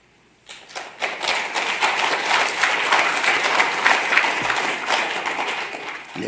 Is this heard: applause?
yes